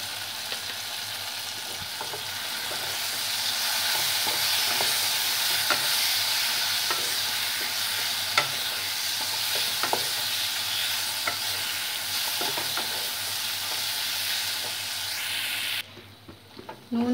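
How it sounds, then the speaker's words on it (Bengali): Ripe mango pieces with salt and turmeric are stirred in a hot pan, producing a continuous moderate sizzle with intermittent soft scraping taps of the spoon, cutting off near the end. "নুন হলুদ দিয়ে আমটাকে একটু কিছুক্ষণ নেড়ে চেড়ে নিয়ে"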